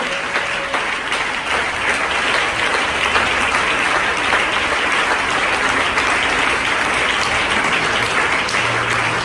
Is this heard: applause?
yes